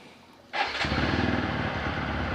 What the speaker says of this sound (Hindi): तो देखिए बाइक जो है वो स्टार्ट तो हो जाता है